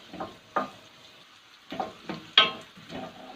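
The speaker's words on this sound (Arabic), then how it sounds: "هشوح البصلاية لما اللون بتاعها يدي اللون الشفاف" Onion sautéing in a pan until translucent for Turkish-style lentil soup, heard as a few separate bursts of soft sizzling and scraping stirs, close by and moderately loud with quiet gaps between them.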